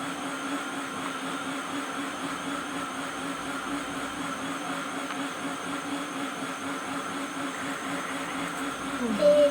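A blender runs steadily, mixing ingredients with a continuous loud whirring drone that holds for the whole stretch and swells slightly at the very end.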